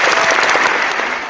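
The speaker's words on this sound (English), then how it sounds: "round of applause for Jay, host of Talking WJ" Applause from a small group for a podcast guest, a steady dense patter of clapping that holds loud through the whole short burst with no voices over it.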